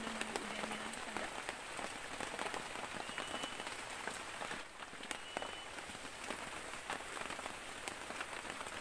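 Rain falls outdoors at dusk over a bushcraft tree-house site, a steady, faint patter of drops on surfaces with no voices.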